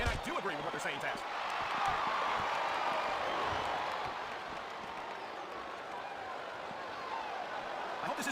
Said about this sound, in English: I love hearing the crowd come alive, even when I don't exactly agree with what they're saying.